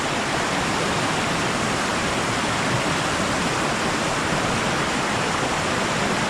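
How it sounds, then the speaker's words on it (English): A smaller creek in flood rushes into a larger swollen creek, making a loud, continuous roar of churning water close by with no voices. "A smaller creek flowing into the larger creek."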